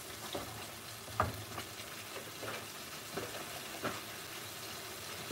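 Pathia curry with base gravy frying in a pan over high heat, a faint, low bubbling sizzle with a few soft spits and stirring clatters at irregular intervals.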